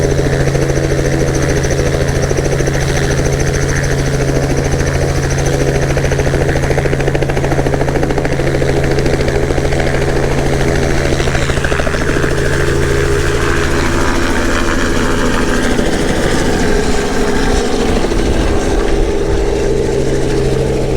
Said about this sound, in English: It's a Raven R44.